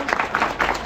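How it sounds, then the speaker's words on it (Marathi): Loud clapping from a crowd at the inauguration of a Buddhist vihara, with rolling bursts of applause swelling and fading across the moment. "जोरदार टाळ्या."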